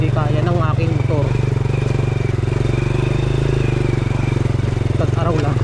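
A motorcycle rides a rough, overgrown rural road, its engine a steady close pulsing drone with faint rattles, while someone talks over it.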